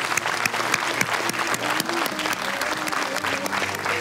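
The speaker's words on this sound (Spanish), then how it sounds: "Aplausos a la producción." Sustained, loud audience applause rolls through a televised talent show semi-final, with bright continuous clapping over soft tonal music playing underneath.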